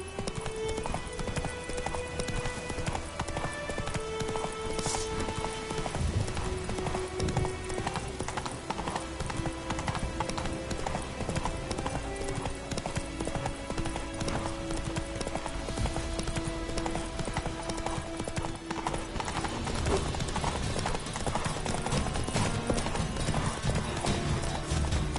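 Roach the horse galloping in The Witcher 3: rapid rhythmic hoofbeat clip-clops running steadily throughout, close and clear under a layer of tonal game music, with a brief whinny near the start.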